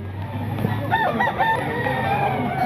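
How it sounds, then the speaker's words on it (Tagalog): A single crow from a busapon gamefowl rooster at a grotto, somewhat softer and farther off, rising out of low background murmur midway and trailing away. "Mga kasama sa manok na busapon mga kaidol"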